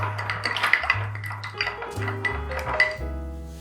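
A cocktail stirred in a glass with a bar spoon, giving close, repeated metallic clinks and rattles against the glass over a low hum, with no talking.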